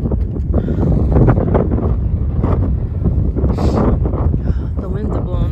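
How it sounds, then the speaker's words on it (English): Wind blowing across a cold, exposed sledding hill, a steady loud rush buffeting the microphone throughout with no pauses. "The winds are blowing up here."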